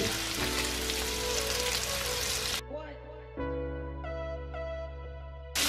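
Chorizo frying in a little oil for paella gives a loud, dense sizzle for the first couple of seconds, then drops abruptly to a quieter, steadier background with faint tonal hum.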